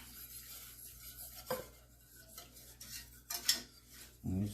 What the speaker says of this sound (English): I'm just going to whisk this until it gets nice and smooth.